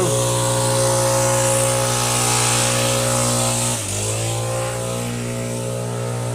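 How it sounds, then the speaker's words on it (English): Several leaf blowers run loudly nearby on a landscaping job, a steady droning engine whine. Their pitch dips briefly partway through, then settles back to a constant roar. "them blowers are loud"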